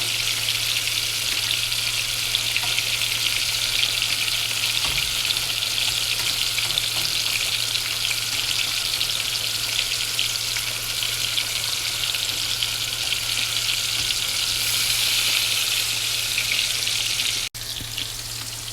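Mango pieces fry in a pan, a loud, dense and constant crackling sizzle held close and steady for the whole stretch, with a brief clack near the end.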